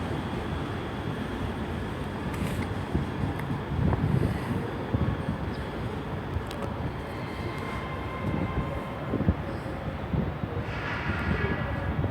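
ScotRail class 385 electric trains pulling out of Glasgow Central station, a steady low rumble of rolling stock and traction with broad station ambience and some wind buffeting on the microphone, continuous for the whole stretch.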